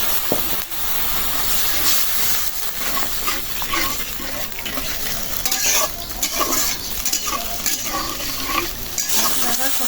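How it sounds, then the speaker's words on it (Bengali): Spice paste frying with onion and oil in a pan for a snakehead fish curry, a steady loud sizzle and hiss with scraping stirs throughout, no voices. "মশলাটা তেলের সাথে পেঁয়াজের সাথে ভালো মতো মিশাই নিচ্ছি ভাজা ভাজা করে এখন একটু পানি দিয়ে দিলাম আর একটু কষাবো"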